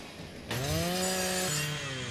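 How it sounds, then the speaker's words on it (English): Chainsaw in the video game Gears 5 cutting through metal: a loud, sustained buzzing whine that starts abruptly and runs steadily, dropping slightly in pitch partway through, with no talk over it. "That's a pretty dang powerful chainsaw."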